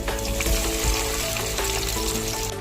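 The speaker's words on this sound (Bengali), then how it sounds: "এখন আমি এতে ডিপ তেলে ফ্রাই করব।" Spiced, marinated meat deep frying in hot oil, a steady loud sizzle and bubbling that runs unbroken throughout with no talk.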